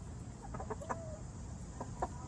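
Close, brief clucking bursts from a backyard rooster calling his hens to treats, a few short rapid pulses in two clusters over a steady low background hum.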